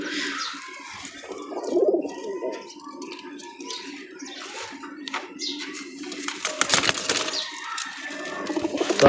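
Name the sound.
pankhi pigeons cooing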